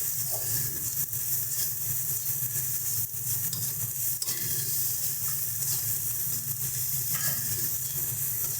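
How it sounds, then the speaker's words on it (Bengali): Onions being stirred with chili powder and salt in a pan for a spicy river fish curry, giving a steady close sizzle with soft scraping stir sounds throughout and no talk. "সমস্ত কিছু দিয়ে ভালো করে পেঁয়াজের সাথে মিশিয়ে নেব।"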